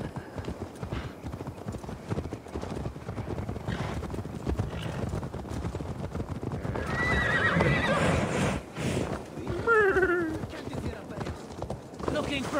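Assassin's Creed Valhalla game audio with galloping horse hooves clopping steadily and a couple of neighs, loud and close, while someone talks over it.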